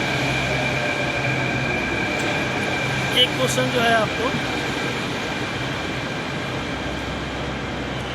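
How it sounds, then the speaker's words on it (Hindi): Metro train rumbling steadily nearby as it arrives, with a continuous low roar and faint whine, while someone talks briefly over it. "ट्रेन, मेट्रो ट्रेन आ गई है,"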